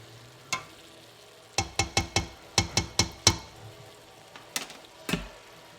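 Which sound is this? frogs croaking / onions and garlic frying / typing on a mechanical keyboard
onions and garlic frying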